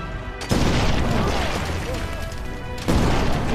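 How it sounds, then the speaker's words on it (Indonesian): Landmine explosions in a minefield from the 2023 film Sisu, heavy booming blasts that roll into a sustained loud rumble, with a second burst arriving near the end. "Tapi karena itu adalah ladang ranjau, mereka mati satu persatu karena meledak."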